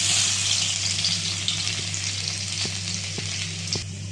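Crushed unpeeled garlic cloves frying in hot oil with tempering spices for masala bhindi, a steady close sizzle with a few soft clicks of stirring in the pan.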